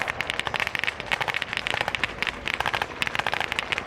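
Heavy weapons fire rattles through a military display battle at an Armed Forces Day national event in Stirling, with rapid, dense crackling bursts of blank gunfire continuing without pause at a moderate distance.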